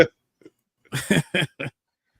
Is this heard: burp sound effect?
yes